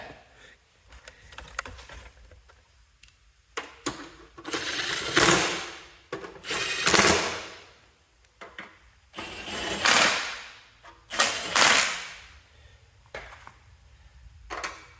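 A Milwaukee impact wrench runs in several short bursts on a starter bolt of a Cub Cadet 1812 lawn tractor, loud rattling hammering with quiet pauses between, up close.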